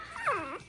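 A Micro American Bully puppy in a litter gives a short, wavering whimper up close, a thin rising-and-falling whine lasting under a second against a quiet background.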